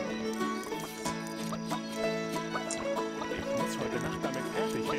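Horse whinnies and hoof clip-clop from the LEGO City Undercover video game, layered over the game's music and effects, with people talking faintly.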